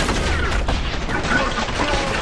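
Dense, continuous gunfire from the first-person shooter video game Trepang 2, a loud unbroken barrage of shots close up that fills the whole short stretch with little pause.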